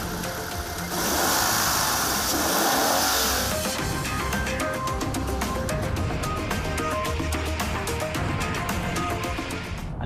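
A Toyota GT86's boxer engine runs steadily, a loud, continuous mid-pitched drone that carries all the way through with a slight rise in intensity, and no voices over it.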